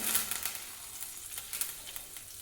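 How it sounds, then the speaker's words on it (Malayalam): Mustard seeds spluttering in hot coconut oil in a pan: a steady close crackle and sizzle with bright, irregular pops throughout, and no talking. "വെളിച്ചെണ്ണ ഒന്ന് ചൂടാക്കി കഴിഞ്ഞാൽ അതിലേക്ക് 1/2 ടീസ്പൂൺ കടുക് ചേർത്ത് കൊടുക്കാം."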